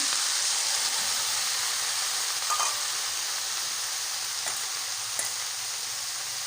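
Potatoes and eggplant fry in a pan with fresh pumpkin greens, giving a steady, close hiss of sizzling oil throughout, broken by a few faint clinks of stirring.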